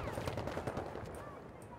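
Rapid automatic gunfire in a video game, a dense burst of shots aimed at the player, heard fairly quietly through a busy mix of game noise with a voice talking over it.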